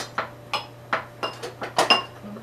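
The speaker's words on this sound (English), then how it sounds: "stir that in a little bit" A spoon clinks and scrapes against a bowl while half a teaspoon of salt is stirred into dry ingredients for prune oatmeal cookies, giving about eight close, separate clinks in an uneven rhythm with no talking.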